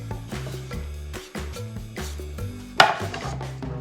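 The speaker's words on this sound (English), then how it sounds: "here I just wanted to cut up the rest of that shallot" A knife dices shallot on a cutting board, the blade striking the board in a quick, steady run of close, crisp taps, with one sharper knock near the end, over faint background music.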